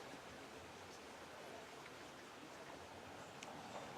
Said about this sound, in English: The sound of the creek,